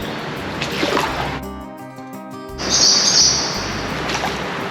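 A bird calls out sharply beneath an interstate bridge by the water, a single loud, agitated burst of chirping echoing under the concrete amid a steady background wash.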